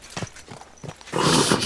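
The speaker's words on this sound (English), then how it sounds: "Easy, good horse." Horse hooves clip-clop in the medieval game Kingdom Come Deliverance 2, a few separate steps at first, then a louder, denser burst of hoofbeats and movement near the end.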